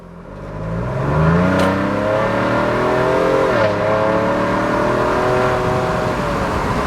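A 2021 Ford Bronco with a Corsa turndown catback exhaust revs up and holds a loud, rising engine roar, then eases off and climbs again, close by and with no talking.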